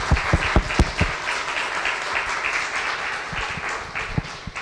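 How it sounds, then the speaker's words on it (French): An audience at a tribute event applauds, with several sharp, close claps at the start and end framing a steady, fuller patter of clapping in between. "On vous applaudit."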